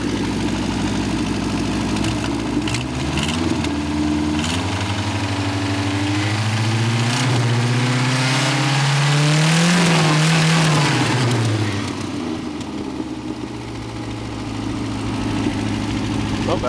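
A Toyota motorhome engine with a cracked exhaust manifold donut and a rusted-out muffler rumbles steadily at idle, then revs up through a rising, falling swell before settling back to a loud, close, uneven drone.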